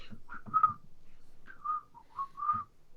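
A person whistles a catchy tune in clear, close, melodic phrases broken by short pauses, with faint voiced hums beneath and no other sounds around.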